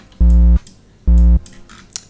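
Two loud, short synth bass notes mimicking a song's bass line, each held about a third of a second with a gap between, buzzy and harmonically rich, followed by faint clicks.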